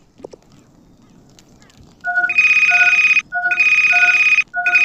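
A mobile phone ringtone plays loud and close in repeated electronic tone bursts with short gaps between them, after a few quiet seconds of faint handling noise.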